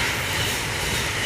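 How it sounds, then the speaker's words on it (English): A fast-moving train passes close by, producing a loud, continuous roaring rumble with broad hiss and no breaks over the brief moment. "Here goes the train. That shit comes fast."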